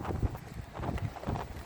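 Strong, gusty north wind on a cold day buffets the microphone in low, rumbling bursts that swell and drop in quick succession.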